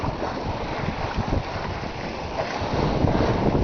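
A sailboat running under genoa on the open ocean on a fine day, heard as steady broadband wind rush and water wash against the hull, continuous and fairly loud throughout with no voices.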